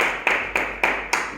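Audience clapping in a lecture hall as a university professor is welcomed to speak on developing the Daegu–Gyeongbuk region, four distinct rhythmic bursts of claps, close and moderately loud.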